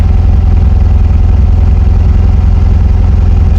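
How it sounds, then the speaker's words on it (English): A 1968 Karmann Ghia engine idles steadily up close, its exhaust giving a low, rhythmic throbbing rumble with slight clattering and an odd exhaust noise, uninterrupted throughout. "Exhaust makes a weird noise."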